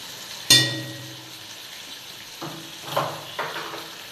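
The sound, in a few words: chicken meat being sautéed and stirred in a pan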